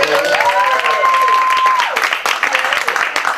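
Audience applause at a stage play, a dense burst of clapping from a crowd that fills the room, with a voice talking over it.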